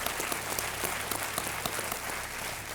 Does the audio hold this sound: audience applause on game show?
yes